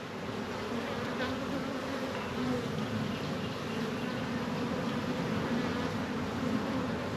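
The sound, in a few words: honey bees buzzing in a hive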